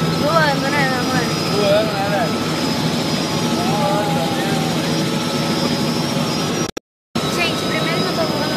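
A steady aircraft engine drone fills the cabin during a flight, holding even and continuous, with people talking over it and a brief dropout near the end.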